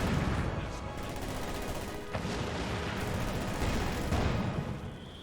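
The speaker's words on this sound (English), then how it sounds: "Conscripts firing away against the Pioneer." Soviet Conscripts fire rifles at a Pioneer in a Company of Heroes 2 battle, a busy crackle of overlapping gunshots over a rumbling backdrop, with a sharper crack near the middle.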